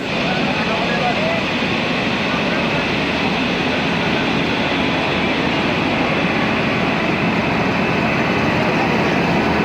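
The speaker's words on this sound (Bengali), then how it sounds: "আজকে থেকে চালু হচ্ছে শিয়ালদা জলপাইগুড়ি হামসাফার এক্সপ্রেস।" The Sealdah–Jalpaiguri Road Humsafar Express, train 13115, on its inaugural run near Ranaghat, makes a loud, unbroken roar of rolling noise that stays steady and close from start to finish, with a murmur of voices mixed in.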